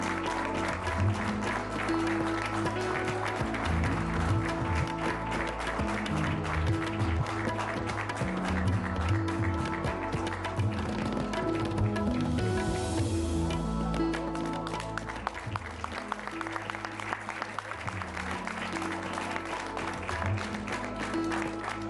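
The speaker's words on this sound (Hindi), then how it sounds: "जोरदार तालियां उनके लिए" An audience at a televised Hindi political debate applauds as guests arrive, with steady, dense clapping that holds for the whole stretch under a background music bed.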